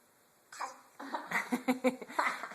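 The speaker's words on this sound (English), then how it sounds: "That's a fake cough." A few short, breathy fake coughing bursts from a baby boy, rhythmic and close, with little giggly catches between them.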